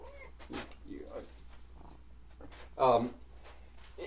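A cat's purr and a short meow-like cry stand out against a quiet room, with a soft murmur of sound around it.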